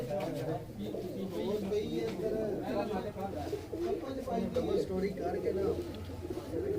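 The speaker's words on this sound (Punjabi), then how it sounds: "ਇਹ ਇਹਨਾਂ ਦੇ ਕਬੂਤਰ ਨੇ ਦੋਸਤੋ ਜਿਹੜੇ ਆ ਜੇਠ 'ਚ ਇਹਨਾਂ ਉਡਾਣੇ ਨੇ।" Pigeons kept in a rooftop loft coo in continuous low, throaty bursts close by, layered beneath ongoing talk from a man.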